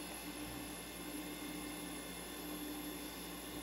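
A Freewing stock 1857kv RC motor on an 8s battery whines at full throttle, a steady, loud, close drone with tonal hum and no change in pitch throughout, with no talk.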